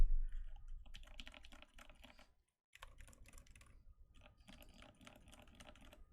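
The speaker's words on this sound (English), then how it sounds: "the only noise off this one is my fingers touching the keycaps" Soft, muted typing on a keyboard fitted with silent Alpaca and Helios switches, a quick close patter of keycap taps that pauses briefly and then resumes at a steady pace.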